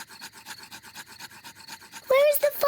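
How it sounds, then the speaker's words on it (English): Two sticks rubbed rapidly together to light a campfire in a cartoon, a quick rhythmic scraping of about a dozen strokes, followed by a loud voice breaking in at the end. "Daddy Pig is rubbing the two sticks together to light the campfire."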